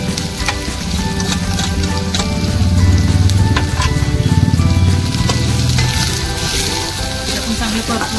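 Onion, garlic and green chili sautéing in a pan for ambadi (gongura) bhaji give a steady, fairly loud sizzle with stirring scrapes. A faint voice and some background noise sit underneath.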